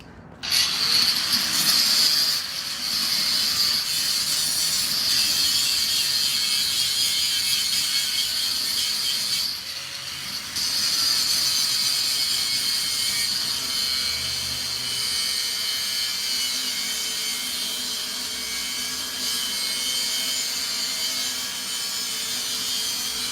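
An angle grinder cuts into a metal safe with a continuous high, grating whine that runs close and loud for over twenty seconds, dipping briefly near the middle before resuming.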